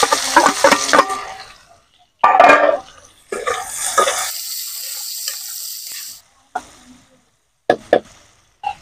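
Chopped onion and green chili hit hot tempered oil in a pan, giving bursts of crackling sizzle with stirring scrapes between them, then quieter gaps and a few short clatters.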